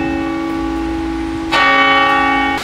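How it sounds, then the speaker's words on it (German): Church bells ring out in a town near Chiemsee, with steady sustained tolls that swell louder partway through, heard clearly without talk. "Die Glocken!"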